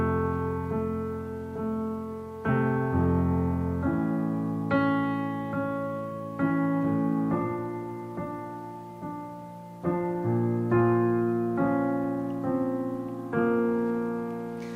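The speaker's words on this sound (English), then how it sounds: "So the full verse sounds like this." A piano plays the verse of a song alone, sustained chords struck at a steady moderate pace, each ringing and fading before the next.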